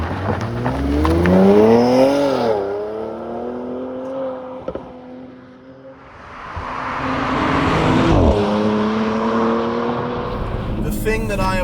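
A Porsche Macan GTS drives hard up a canyon hill, its engine revving and rising through the gears, loud and close, with a brief lull before it pulls strongly again. A voice talks over parts of it.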